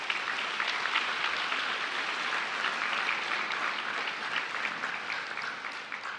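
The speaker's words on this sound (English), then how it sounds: "Let's give them a round of applause" Sustained applause from a large crowd at a high school awards ceremony, dense and even clapping that holds steady at a strong level throughout.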